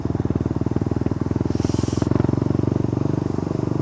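A motorcycle engine idles and chugs steadily nearby with a rapid, even pulsing rhythm, loud and continuous, with a brief higher hiss partway through.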